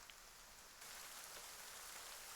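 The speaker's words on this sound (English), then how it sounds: "well, I could try heavy rain," Heavy rain falls in a steady hiss, quiet at first and then swelling louder partway through, with no voices over it.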